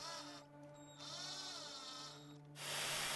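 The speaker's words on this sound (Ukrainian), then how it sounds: "Далі в дрилі на високих обертах і гравером придаємо форму." A high-pitched electric drill whirs steadily at speed for a few seconds, spinning a piece of slipper foam on a screw shaped with an engraver, then gives way to a louder burst of broadband noise at the end.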